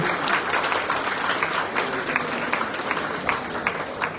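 A crowd applauding at a Malayalam film event, dense continuous clapping from many hands, fairly loud and even throughout with no speech.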